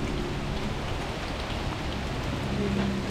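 Rain pours steadily on a hill hike at Suling Hill, Bukit Mertajam, a dense, even patter of drops on leaves and surfaces that fills the scene without a break.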